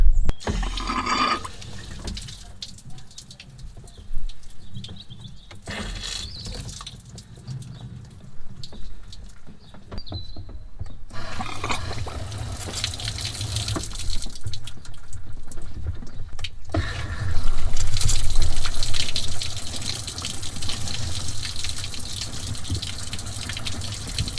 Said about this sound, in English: So now I'm going to fire some water from that hose down there.